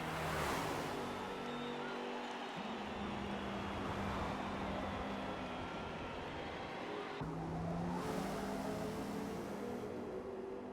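Race cars lapping in a 24 Hours of Daytona sim racing game, a steady loud engine drone with rising revving tones that drop sharply at gear changes.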